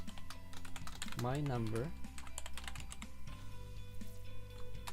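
Someone types code on a computer keyboard in quick, steady clicks that carry on throughout, with a person talking briefly over the keystrokes.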